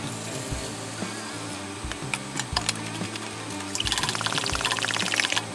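A stain and water mixture pours into a pump sprayer, a soft splashing trickle that grows louder and steadier in the last seconds, with clicks and handling noise over a low hum.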